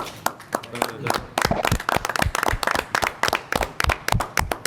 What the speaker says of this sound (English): I think a hearty round of applause would be in order, though, for Mr. Haller.